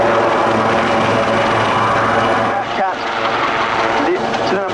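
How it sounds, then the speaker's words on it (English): A Westland Wildcat helicopter hovers at Yeovilton Air Day, its steady rotor and turbine roar loud and continuous, dipping slightly midway. "Aircraft in the hover now"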